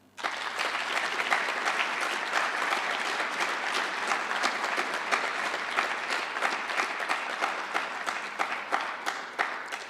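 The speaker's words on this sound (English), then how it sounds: "rejoignez-moi pour les applaudir" An audience at a Pan African mathematics olympiad ceremony claps in sustained applause, a dense, even patter of many hands heard from a distance for the whole stretch.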